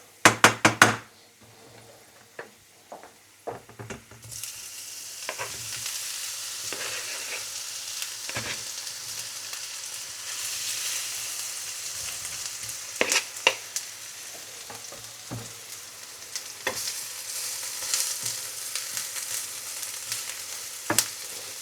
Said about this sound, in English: once the garlic starts to brown, you add the mushrooms.